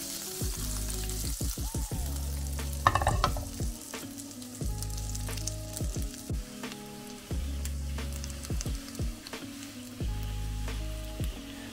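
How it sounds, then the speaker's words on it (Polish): Onion rings frying in a spoonful of butter in a pan, a steady close sizzle with soft crackles and occasional stirring scrapes throughout, no voices. "Cebulę podsmażam na łyżce masła"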